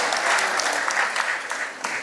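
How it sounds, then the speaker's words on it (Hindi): Steady applause from an audience welcoming guests at a magician's 77th birthday function, a dense wash of clapping that runs evenly through the short stretch with no break. "उनका भी तालियों के साथ में हमें स्वागत करना चाहिए"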